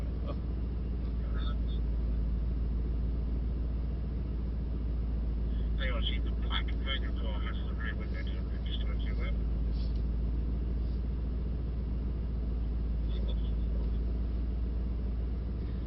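A Mercedes-AMG GT63 Pro drives on a race track, its engine a steady low drone under continuous spoken commentary.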